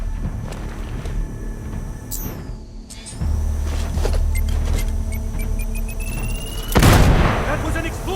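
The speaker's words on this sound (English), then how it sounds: "That was an explosion!" An explosion booms in the video game Ghost Warrior Contracts 2, a sudden loud blast near the end standing out over rumbling game ambience and mechanical clicks.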